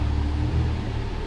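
A Morgan Roadster's 3.7-litre V6 catches and settles into a loud, steady low rumble close by, with a brief swell in the middle and no voices.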